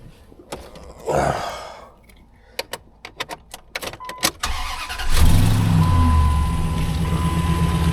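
A 2005 Ram 1500 pickup starts up close by after keys jangle and a few sharp clicks, then settles into a steady, loud idle that runs to the end.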